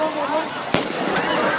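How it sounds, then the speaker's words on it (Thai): Gunfire at an anti-Shinawatra street protest in Thailand: one sharp, loud crack followed by a fainter second shot, over a constant crowd roar and voices. "ยิงเข้ามาเลย"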